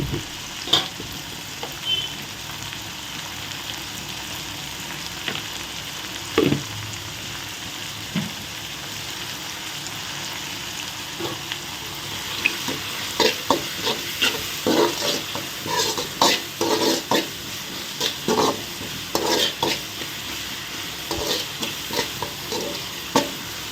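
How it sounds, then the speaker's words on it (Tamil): Tomatoes sautéing in a pan make a steady soft sizzle, joined by increasingly frequent spatula scrapes and taps against the pan in the later half, heard close up. "தக்காளி பழம் நல்லா வதங்கட்டும்"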